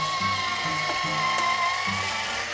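A kitchen gadget that rotates a potato runs noisily, giving a steady loud mechanical whirring and grinding with a constant whine and rhythmic rattling, continuous throughout.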